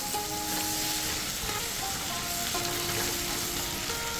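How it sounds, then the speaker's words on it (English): Frying pan sizzling steadily as turmeric is stirred in while cooking chicken soup and rice, a dense continuous hiss close up with faint tonal background sounds behind it. "Make sure you stir properly after adding the turmeric."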